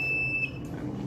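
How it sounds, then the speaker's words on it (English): An electronic buzzer on a smart attendance door system sounds during a smoke alert, a steady high tone held for about half a second over a low background hum. "the buzzer turns on"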